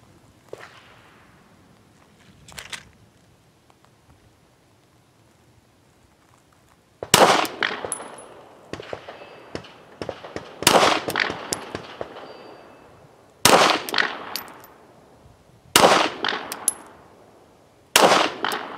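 A gun fires a ten-round magazine loaded with old vintage primers, giving loud sharp outdoor bangs at irregular intervals, with a few isolated shots at first and then closer strings of reports.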